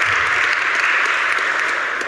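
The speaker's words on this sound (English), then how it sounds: "So give them a warm applause to welcome" A conference audience applauds warmly, dense continuous clapping that stays loud and even for the whole stretch.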